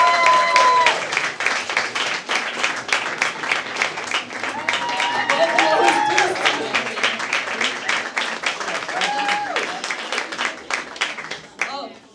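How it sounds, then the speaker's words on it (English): An audience applauds a stand-up comedian at a live show, a dense burst of clapping that swells and then thins out over about twelve seconds, with a few voices calling over it. "A huge applause for Nibal, please."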